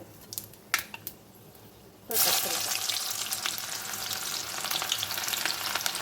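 Fenugreek and cumin seeds hit hot oil with a sudden loud sizzle that keeps crackling steadily, after a few faint clicks beforehand.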